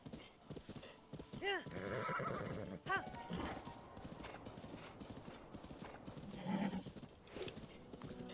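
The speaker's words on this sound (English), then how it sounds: "we are going to wind bomb over to this pack of horses" Horses neigh and whinny in Zelda: Breath of the Wild, with a couple of distinct whinnies close by over clopping hooves and faint game ambience.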